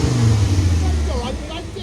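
Engine of an auction VW Beetle bug revving, a loud low throaty rumble that swells and holds close by, with a voice calling out over it.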